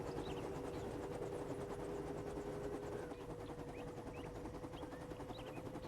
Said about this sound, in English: I do like the helicopter.